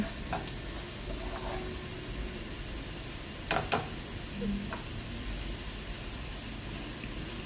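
Garlic sizzling in a pan, a steady broad hiss holding throughout with a brief clatter midway and no speech over it.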